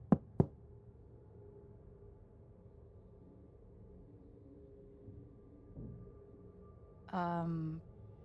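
Two sharp, close knocks on a door in the Life Is Strange True Colors video game, quick in succession, followed by quiet room ambience and then a brief voice.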